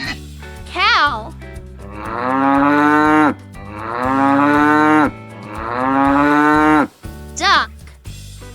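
A cow moos twice in long, loud, drawn-out lows that rise and sustain, set over a light musical backing with short voice bits at either end.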